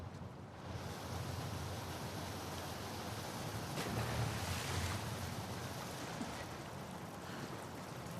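A fast-flowing torrent of water in The Last of Us Part II, heard as a steady, full rushing roar like heavy surf that continues without a break, loud and close, with no voices over it.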